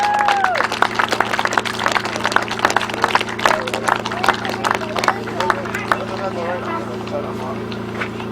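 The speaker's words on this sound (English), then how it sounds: "Big round of applause, please." An outdoor crowd at a grasstrack race claps for the 1,000cc sidecar winner, sharp scattered hand claps over a steady engine-like hum, with voices talking throughout.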